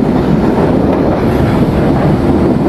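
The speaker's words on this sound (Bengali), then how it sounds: "আমাদের ট্রেন এই মুহূর্তে ধ্রুপদ যাচ্ছে বাসবিবি রেলওয়ে স্টেশন।" The Simanta Express rushes along at speed on a night run out of Khulna, a loud, steady roar of wheels and rumbling carriages with wind buffeting the microphone and no pause throughout.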